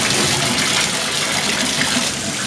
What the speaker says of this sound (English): now we gotta turn on the shower and rinse it off